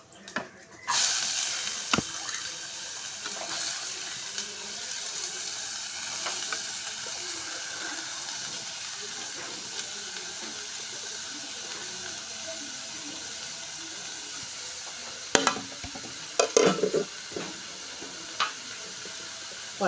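Mustard seeds frying in hot oil in a pan while being stirred for a country-style fish curry: a continuous crackling sizzle, with scattered clinks and scrapes of stirring that grow busier near the end.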